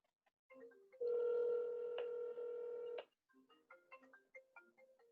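Quiet telephone tones on a call: short beeps, a steady two-second tone, then a run of brief beeps.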